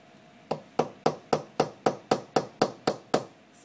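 A hammer strikes a centre punch to splay a tube rivet, about eleven sharp metallic taps in a steady quick rhythm, close and clear with nothing else over them.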